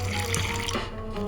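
Soda water poured into a mojito glass with mint and ice, a short steady fizzing splash heard close up, continuous and fairly quiet with no talking.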